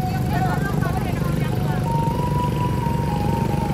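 A motorcycle on a steep hill road, its engine droning steadily and fairly close for several seconds beneath people talking.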